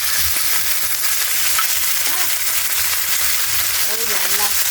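Pork browning in a pan before garlic and onion go in, a steady broadband sizzle running the whole time with faint stirring and brief voices in the background.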